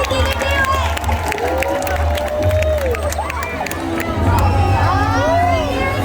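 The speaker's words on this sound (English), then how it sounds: "Let's give a big round of applause to Keith" A large crowd at a SeaWorld San Diego orca show cheers and claps, a loud, sustained roar of voices with whoops and children shouting, and a brief spoken word in the mix.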